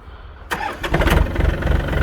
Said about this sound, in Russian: Трактор заводится отлично